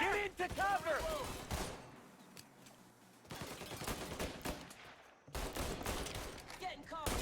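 Gunfire in Mafia: Definitive Edition, sharp rapid shots crackling in dense bursts that break off into quieter stretches, close and loud, mixed with shouted voices and game dialogue.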